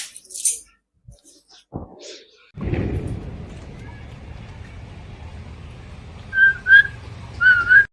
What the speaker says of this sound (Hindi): कौन सीटी मारता बहरी तो देखता।